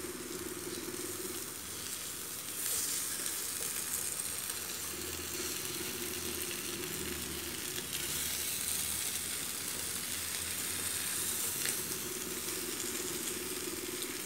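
Chicken pieces for ayam bakar grilling, a steady close sizzle and hiss of fat on the heat that runs without a break, with a faint shuffling as the pieces are turned.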